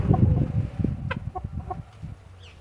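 A large native village rooster of about 5 kg gives several short, close clucks over low rumbling background noise.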